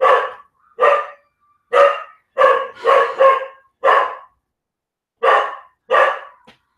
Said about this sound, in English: Welcome my dog to the stream.